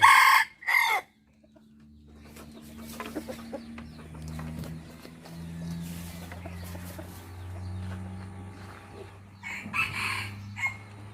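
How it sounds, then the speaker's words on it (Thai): Thai-breed rooster giving a couple of sharp, loud crows at the start, then low clucking and murmuring over several seconds before another burst of crowing near the end. "เป็นสุดยอดไก่สายพันธุ์ดี ตัวนี้ซื้อมาจากประเทศไทยครับ"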